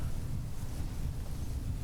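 Blustery wind buffets the microphone in a continuous low roar, loud and close, with no other sounds standing out.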